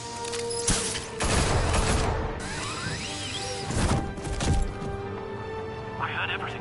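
Bursts of gunfire and crashing impacts from a Batman: The Telltale Series action scene, several loud volleys rising over a steady background with whooshes in between.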